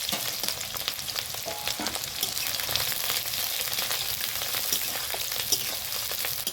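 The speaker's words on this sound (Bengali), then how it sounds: "পেঁয়াজ রসুনগুলো আমার খুব সুন্দরভাবে ফ্রাই করে নেওয়া হয়ে গেছে" Chopped onion and garlic fry in mustard oil with dried chillies, whole spices, panch phoron and bay leaf, a steady dense crackling sizzle, close and continuous, with occasional stirring.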